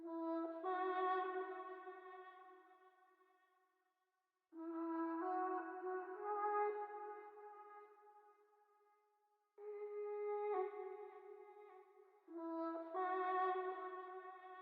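Auto-tuned, freestyled solo vocal with vibrato, pitched and processed, for a vibey R&B beat; four sustained sung phrases with gliding pitch, each swelling then fading, separated by short silences, up front and alone.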